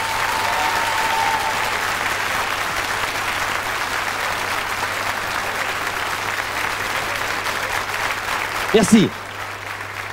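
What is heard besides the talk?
audience applause for vintage Tracta and Bugatti cars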